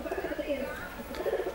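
A female racing pigeon kept for breeding coos softly in a short, low, throaty murmur, close by and fairly quiet, with no one talking.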